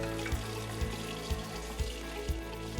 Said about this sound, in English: we'll start by running our hands under warm running water